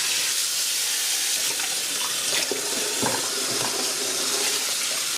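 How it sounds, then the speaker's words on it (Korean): Tap water pours steadily into a sink over beef ribs that were soaked in cold water for two hours, a close, continuous splashing rush that stops sharply at the end. "이제 흐르는 물에 헹궈 주겠습니다"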